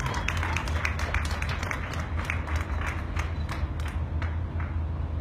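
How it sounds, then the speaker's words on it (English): Sustained applause from a crowd, a dense wash of clapping that holds steady throughout without voices. "Let's give her a round of applause"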